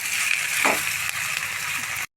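Onions and leafy greens sautéing in a pan, a steady close hiss and sizzle with a brief stirring scrape partway through, then an abrupt cut to silence.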